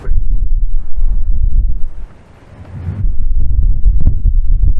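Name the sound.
wind on the Cornwall coast path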